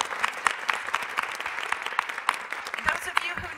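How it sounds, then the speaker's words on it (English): Audience applause for Charlie at an ocean pollution event: a moderate crowd clapping with several distinct, sharp claps standing out, and some voices murmuring underneath. "I do want to just give a quick round of applause to Charlie"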